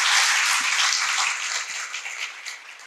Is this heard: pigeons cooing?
no